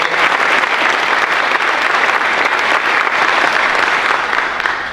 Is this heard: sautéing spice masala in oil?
no